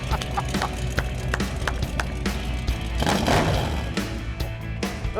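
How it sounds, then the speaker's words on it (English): An old Dodge Charger's engine rumbles through glass pack mufflers, a loud, steady, throaty idle with uneven lopey pulses and a swell of revving partway through. "Those are glass packs"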